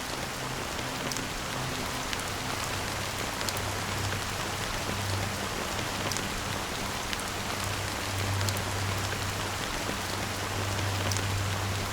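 Steady rain pours down in a scene from the video game Honkai Star Rail, a dense continuous hiss of drops hitting surfaces with a low rumbling hum underneath, even and unbroken throughout with no voices.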